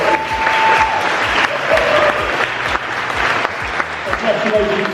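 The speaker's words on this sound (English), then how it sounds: "Let's give them all a big round of applause." Audience applause at an awards show for the finalists, a loud, sustained burst of clapping with cheers and whoops rising over it and voices calling out in the crowd.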